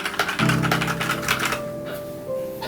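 Typing on a keyboard fitted with Akko CS Vintage White linear switches (22mm extension spring), a dense run of close, crisp keystrokes with a faint tonal hum underneath.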